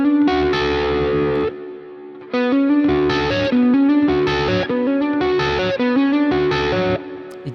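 An electric guitar played with distortion picks out separate ringing notes in a hybrid-picking pattern, loud and close, in short phrases with brief gaps and a sustained, effect-laden tone.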